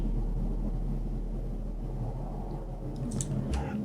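A Poly 6 trance-style synth bassline with an E flute layered just behind it for sub weight, in an amapiano production: a steady, dense low-end drone carrying throughout, with brief bright high accents near the end.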